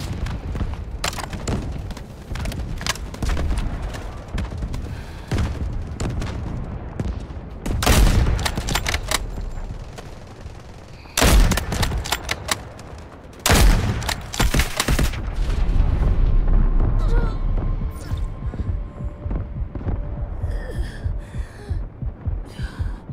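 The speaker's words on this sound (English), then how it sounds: "Artillery ready for barrage." Artillery barrage in the video game Delta Force: heavy booming impacts with a low rumbling roar, several loud bursts and a sustained thundering stretch near the middle, alone with no talk.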